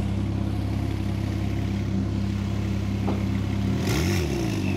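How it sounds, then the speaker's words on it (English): Ferrari supercar, a 430, idling with a steady low engine drone at a Motorworld München supercar meet, then a sharp rev swelling and dropping near the end, close and fairly loud over crowd ambience. "One of the best sounding Ferraris."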